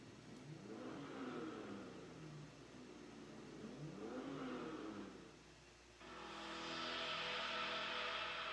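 A car engine revving sound effect, added for a cinematic feel: two rising-and-falling revs swell and fade, then a sustained, brighter engine roar holds steady to the end, moderately loud with no voices.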